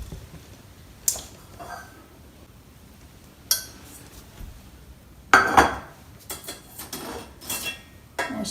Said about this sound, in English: let's see if I can find my little pan